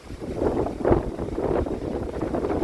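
Strong wind buffets a camera microphone outdoors by a rice field in heavy rain, making a loud, steady, rumbling roar with gusty swells and no clear voices.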